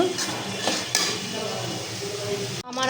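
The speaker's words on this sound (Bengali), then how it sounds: "এখন ভালো করে মশলাটা কষিয়ে নেব" Spice paste sautés in a pan with a continuous close sizzle and a few metallic clinks from a utensil against the pan. The sound cuts off abruptly just before the end.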